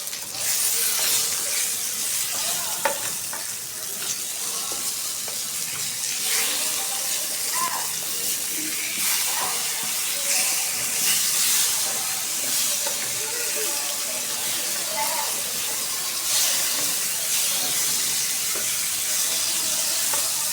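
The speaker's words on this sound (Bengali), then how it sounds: "আর এদিকে যে বেগুন ভাজা বসিয়ে দিচ্ছি।" Eggplant slices frying in a pan give a loud, unbroken hiss and crackle of hot oil that stays steady throughout.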